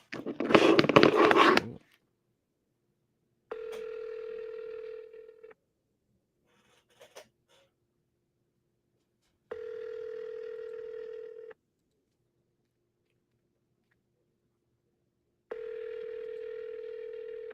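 An outgoing phone call starts with a burst of rustling, then three evenly spaced two-second ringback tones with long silent gaps between them, as the call goes unanswered before reaching voicemail.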